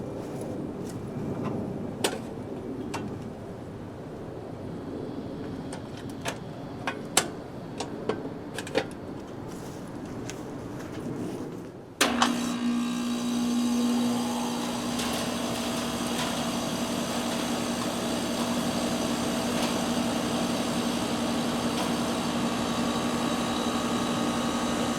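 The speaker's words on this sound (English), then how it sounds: "Work is done, time to plug it back in and power it up." A home air conditioner unit after mid-summer maintenance, quiet clicks and ambient noise until it abruptly powers up into a steady loud hum and whir with a low tonal drone that continues evenly.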